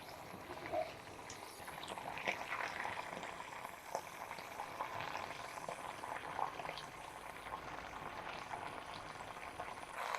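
A herbal candle bush ointment boils in a pot on the stove, giving a steady, faint bubbling and crackling sizzle throughout, with small pops scattered across the quiet simmer.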